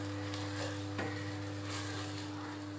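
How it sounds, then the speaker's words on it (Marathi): Soft tomato with turmeric and red chilli powder sautés in a pan for amti, a quiet, even sizzle with a single brief scrape, under a steady background hum. "आता यामध्ये मी हळद टाकत आहे, लाल तिखट टाकत आहे, हे मी परतून घेत आहे."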